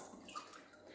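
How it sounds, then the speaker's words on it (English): Water poured into a wooden butter churn holding curd, a brief soft continuous trickle and splash, faint and close, heard alone. "I will add some water."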